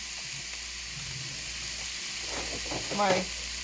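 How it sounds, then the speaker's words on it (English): Steady frying hiss fills the background, a constant sizzle of ground beef in a hot pan, with brief bursts of nearby voice over it. "And I hope you can hear the sizzle."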